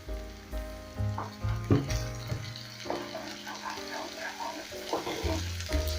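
Onions and ginger sautéing on very high flame in a pan, a close sizzle broken by stirring knocks and scrapes of a utensil, with no talk.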